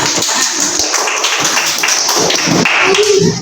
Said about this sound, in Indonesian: Silakan tepuk tangan untuk kita semua